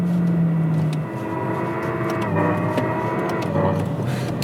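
A 2025 Lexus RZ electric car plays a synthetic engine note that mimics eight virtual gear shifts: a steady, humming tonal drone that dips and changes pitch as it shifts, loud and close throughout.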